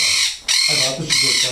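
Birds in a pigeon loft, with loud, close bird calls coming in three bursts separated by short pauses.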